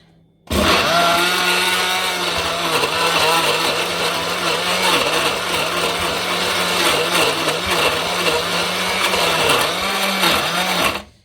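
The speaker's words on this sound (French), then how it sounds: "laissez-moi le temps de tout broyer" A kitchen blender grinds chili peppers for a hot sauce, roaring loudly and steadily for about ten seconds with a wavering motor pitch as the contents churn, starting and stopping abruptly.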